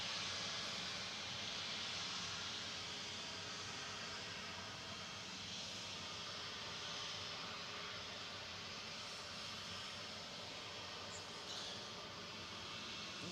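Airbus A321neo airliner at Manchester Airport, its engines producing a steady, distant broadband roar that holds evenly throughout without voices.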